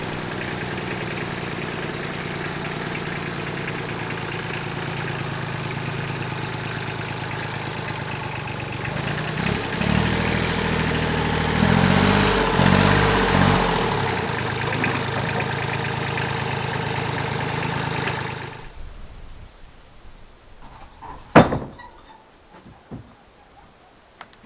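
A tractor engine idles at a smallholding with a steady low rumble that swells in the middle, then cuts off abruptly, leaving quiet outdoor background with a few faint clicks.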